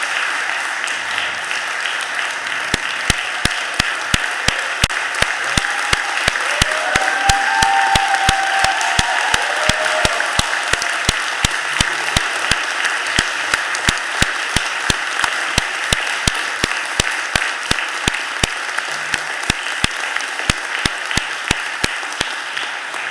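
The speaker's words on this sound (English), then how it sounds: "could we stand up and give a round of applause" A standing council chamber crowd at a budget hearing gives long, sustained applause that settles into a steady rhythmic group clap, with a few voices calling out underneath.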